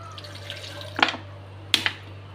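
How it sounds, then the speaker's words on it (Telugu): Water is poured into a pan holding jaggery for coconut laddus: two short splashing pours about a second apart, close and fairly quiet over a steady low hum. "కొంచెం వాటర్ పోసుకోవాలి"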